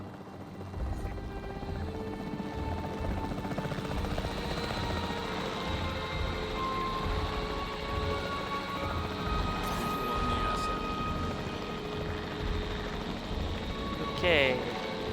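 A capture team helicopter thrums steadily throughout a Jurassic World Evolution scene, its continuous rotor drone sitting under ambient game sounds for the whole stretch.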